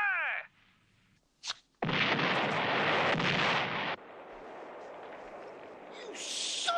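A 1977 Mercedes 450 SL blown up: after a brief whistle and a sharp crack, a massive loud explosion roars for about two seconds, then a long rumbling, crackling aftermath.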